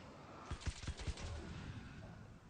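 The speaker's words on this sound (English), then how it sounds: "We grab a nail gun, which is a perfect weapon against the Taken." A nail gun fired as a weapon in the game Alan Wake, a quick run of several sharp percussive shots in the first second, then a faint lingering rumble with no talk.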